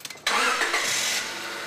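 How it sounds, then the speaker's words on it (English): Car engine starting during a coolant flush service, a short crank followed by the engine catching into a steady, loud idle that settles slightly after a second. "Start the engine"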